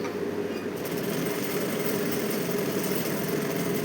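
A sewing machine runs a continuous stitch along folded lining cloth, giving a steady, close mechanical whir with a fine rapid rattle that never pauses.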